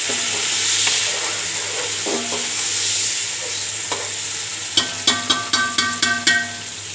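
Tomatoes fry in a pan with a steady sizzle while being stirred. Toward the end comes a quick series of sharp scraping and clanking strokes from the spoon against the pan, and no one speaks.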